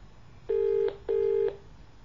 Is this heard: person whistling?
no